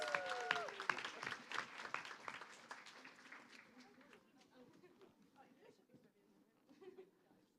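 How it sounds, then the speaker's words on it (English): Scattered audience applause at a hackathon's final presentations, starting with brisk claps and a whistle, then thinning out and fading under a murmur of chatter. "Give them another round of applause."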